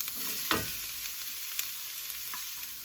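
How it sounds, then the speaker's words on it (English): Chopped onions and celery fry in a skillet, a steady close sizzle with a few brief stirring scrapes over about three seconds, no voices. "Now to this skillet, I'm going to add our chopped onions. And our chopped celery."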